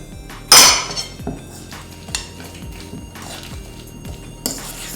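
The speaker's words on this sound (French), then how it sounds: "continuer à écraser à la fourchette les morceaux qui n'ont pas été bien écrasés au mixeur" Fork mashing chunks of sweet potato purée in a bowl, a sharp clatter of metal on the bowl near the start followed by softer repeated scrapes and taps, close and alone.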